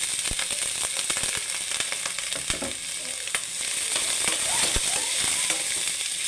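Meat sizzling and frying steadily in a pan with onion and garlic for a Filipino upo with misua dish, close and continuous, with occasional stirring clicks and scrapes and no talk.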